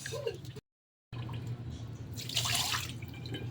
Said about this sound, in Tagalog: Huhugasan natin ito ay hindi siya malagkit ng klase. Hugasan natin siya ng 3 beses.